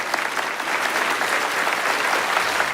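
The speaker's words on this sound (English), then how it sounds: "As he ends his speech, everyone claps for him." An audience bursts into loud, steady applause, many hands clapping together in a dense wash that holds for a few seconds before cutting off.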